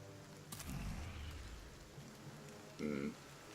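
Rain falling across a low-light battlefield in the video game Battle Brothers, a soft steady hiss joined by a couple of brief low thuds.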